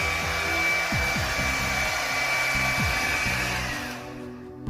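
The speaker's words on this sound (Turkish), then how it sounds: "Tamam, şu an saçı kuruttuk." A hair dryer blows steadily on slightly damp, thick frizzy hair, a loud continuous whirring rush with a thin high whine, with bumps and shifts in tone as it moves, then tapering off near the end.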